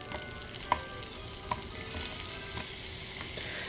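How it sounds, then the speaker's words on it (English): Apple pieces fry in butter on a Dash mini griddle, a close, steady soft sizzle with a few small pops and taps near the start. "I'm going to put some butter on the bottom"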